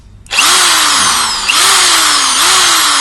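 INGCO 650 W impact drill, type ID 6538-8, starts up and runs at maximum speed with a loud, close high whine, its pitch dipping briefly and recovering a few times while it keeps spinning.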